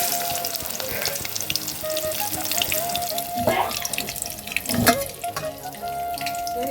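Cabbage fritters fry in hot oil, giving a loud, steady sizzle and bubbling throughout, close up, with a few brief clatters and no talk.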